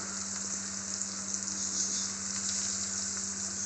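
Onions frying in a pan give a steady, close, hissing sizzle with a faint low hum beneath and no talking.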